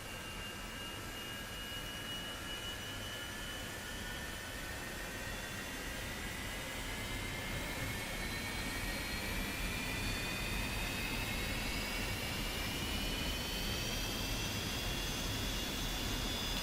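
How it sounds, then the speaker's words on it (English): An F-86 jet engine idles in the flight simulator DCS World with a steady broadband roar, while thin whining tones rise slowly over the whole stretch and no one speaks. "That means our engine is up and running and in idle."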